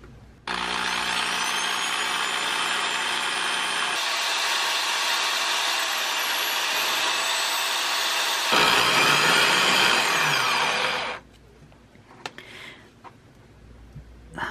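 1950s Black & Decker U-3 quarter-inch Deluxe Utility Drill spinning its motor commutator like a lathe, a loud steady electric whine with a scraping, sawing edge that shifts in tone twice, then cuts off and winds down to quiet.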